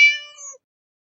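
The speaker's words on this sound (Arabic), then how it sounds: "قطة" A single cat meow, clear and close: one short, bright mewing cry that bends slightly in pitch and cuts off cleanly into silence.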